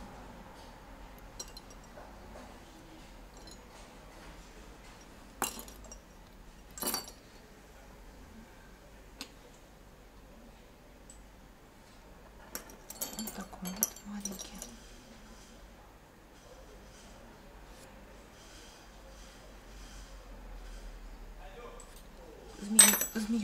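Glass jewellery pendants clink and tap lightly while handled, a few scattered sharp clicks and a short cluster of small knocks over quiet room background, with no voices.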